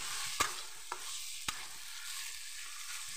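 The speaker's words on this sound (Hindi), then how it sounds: "इसे चना को डालने के बाद मैं अच्छी तरह से इसे भी चलाऊँगी" Black chickpeas roasting with spices in a pan, a bright hiss of frying with three sharp scrapes of a stirring spoon, close and without voices.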